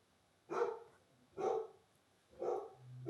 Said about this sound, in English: Sorry if you hear the dog.